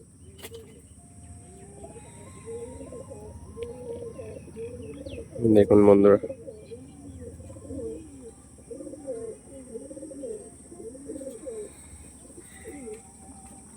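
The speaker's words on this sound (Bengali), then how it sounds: "একদম সুন্দর কোয়ালিটির পায়রা" Pigeons of a prized breed, with a male courting, coo in a steady run of soft, rolling calls close by, while someone talks over them and a short louder burst of noise cuts in midway.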